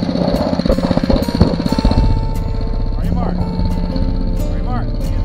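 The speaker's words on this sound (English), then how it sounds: "Try to give it full throttle, and we'll just kind of judge the acceleration." A Phatmoto motorized bicycle engine revs hard at full throttle, a loud buzzing small-engine drone with rising pitch sweeps as it accelerates, with speech over the first part.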